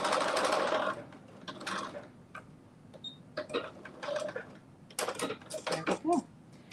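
Domestic sewing machine stitching at a 4.5 stitch width, heard as bursts of quick mechanical whirring and ticking that start and stop, with a person talking softly between runs.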